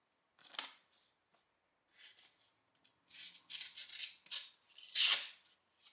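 Leatherman multitool blade slicing through a small piece of paper, a few short dry scraping cuts spaced out over several seconds, close and clear, the last one loudest.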